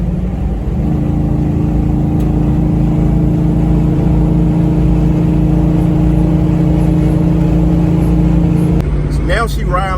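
A car with a swapped LS V8 engine drones steadily up close while driving, its low-pitched hum holding and building as it accelerates before breaking off near the end.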